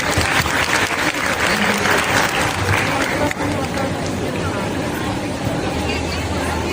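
Loud audience applause fills a class session, dense clapping mixed with crowd hubbub and voices, strongest early and then settling into a lower, chattering wash.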